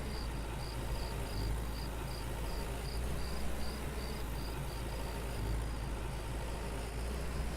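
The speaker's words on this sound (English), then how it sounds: "once you start hearing the cricket sounds and all that, that's 7 o'clock in the evening" Crickets chirping in the evening in the farming game Farmer's Dynasty, a steady high pulsing trill running throughout over a constant low engine-like rumble, with no voices.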